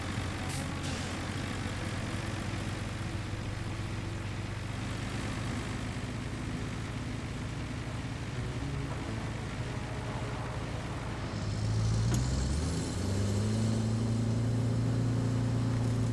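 A steady, low truck engine drone in the video game RoadCraft runs throughout, rising and shifting in pitch near the end as the vehicle revs.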